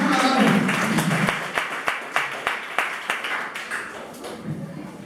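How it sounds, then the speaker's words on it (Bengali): Audience applause at a public speaking workshop, scattered sharp claps that build into a fuller round, with faint voices murmuring underneath. "হাততালি এবারে একটু বাড়াও।"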